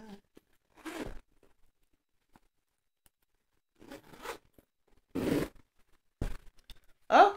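A pocket zipper on a mini leather backpack purse is pulled in several short, raspy bursts separated by quiet gaps, close and crisp, each run a quick ratcheting zip with no talking.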